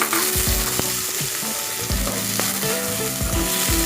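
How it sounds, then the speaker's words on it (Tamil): Country chicken pieces sauté in hot oil for a varuval fry, giving a loud, continuous crackling sizzle with stirring scrapes, while melodic background music plays underneath. "சிக்கன் சேர்த்துட்டு நல்லா ஒரு 2 நிமிஷம் நம்ம எண்ணெயிலே வதக்கிக்கலாம்."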